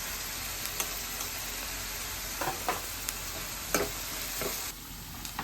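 Onion paste fries in a pan for mushroom curry, a constant close sizzle broken by a few soft scrapes and taps of stirring, with no voices.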